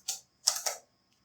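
Keys are pressed on a computer keyboard while code is typed, giving three short, crisp clicks close to the listener: one alone, then two in quick succession, followed by silence.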